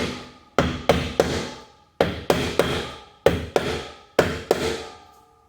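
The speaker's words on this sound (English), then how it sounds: "I'm just going to use a little flat hammer. Tap this back down." Sharp metallic taps from a small flat hammer, struck in quick bursts of two or three with short pauses between, close and ringing, while repairing a Presto Heat Dish heater.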